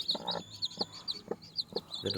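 A country hen clucks in short, repeated bursts close by, a steady rhythmic series of soft, throaty calls with faint chick peeps mixed in.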